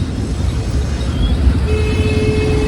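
Busy road traffic near a temple: a constant low rumble of passing vehicles with a few short horn toots rising above it, close and steady with no one talking.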